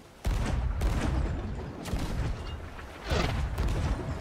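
Ship cannons firing in the pirate video game Sea of Thieves, a dense barrage of heavy booms and blasts rolling close together, loud and continuous with no talk.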